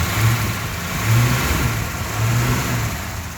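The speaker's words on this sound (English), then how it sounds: "Beautiful engine, runs lovely, really does." A rebuilt engine fitted with electronic ignition and new water jackets runs loud and close, a steady low rumble that swells slightly a few times as if lightly revved.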